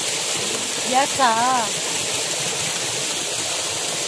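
Nakamura waterfall on Morotai roars as a constant broadband rush close by, with a short burst of speech early on over the steady water noise.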